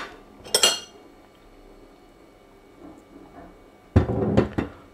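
A teaspoon clinks against a dish while lime honey is added to butter and turmeric in a home kitchen: two short bursts of bright metallic clatter, one near the start and a longer cluster toward the end, with quiet between.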